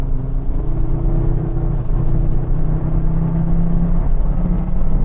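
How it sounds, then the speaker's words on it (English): Engine of a 2004 Volvo V70R Turbo station wagon pulling strongly as it accelerates on the road, a loud, steady rumbling drone with a rising whir, heard from inside the car. "Beautiful acceleration, effortlessly gaining speed"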